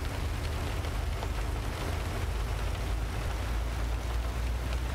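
Steady rain in the American Truck Simulator driving game, a constant even hiss mixed with a low engine rumble that runs the whole time with no break.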